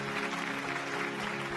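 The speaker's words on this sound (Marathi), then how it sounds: "जोरदार टाळ्या" A studio audience at a Marathi TV singing competition claps steadily in a dense, continuous wash of applause, loud and close, with no voices standing out.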